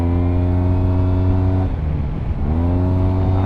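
A 2024 Yamaha TMAX Tech Max scooter engine hums loud and close, its tone dipping briefly then rising again as the throttle is opened in Sport mode.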